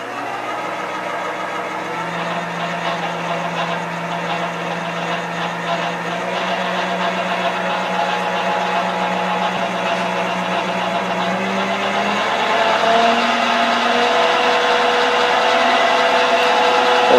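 A replacement motor runs steadily in a Monarch 10EE lathe, a close, even mechanical hum with a faint whine that climbs slightly in pitch and loudness toward the end.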